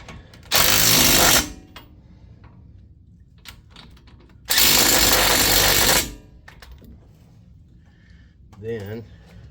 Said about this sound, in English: I'm going to snug them up with the impact.